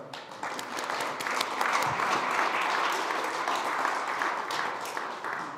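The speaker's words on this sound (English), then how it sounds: "Bigger round of applause for Stephen Jennings" Audience applause for Stephen Jennings of Ahold Delhaize USA at a SXSW 2025 food-system session, a dense, steady roomful of clapping that holds evenly throughout.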